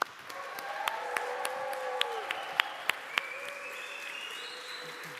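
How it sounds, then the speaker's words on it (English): An audience applauds at a software conference, welcoming two speakers from a project-management tool team, with dense sustained clapping that has a few sharp individual claps and faint voices beneath. "Please welcome them with a great applause."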